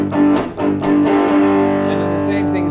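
Electric guitar strumming a funky power chord progression of two-note root and third shapes, distorted chords struck a few times then left ringing, loud and close.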